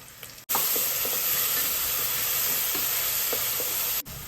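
Onion, green chili and garlic sizzle in hot oil in a cooker, a loud, continuous frying hiss that starts abruptly and cuts off just as suddenly, with faint stirring scrapes inside it and no voices.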